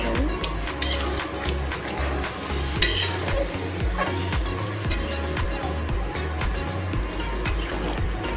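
Methi chicken curry with potato and tomato bubbling and sizzling in a pan, with steady frying crackle and occasional stirring scrapes throughout, no talking.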